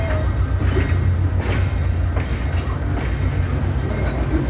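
Trains crossing a movable-span railway bridge at a river port, a loud, continuous rumble with rhythmic clatter of wheels over the track joints, close and sustained throughout.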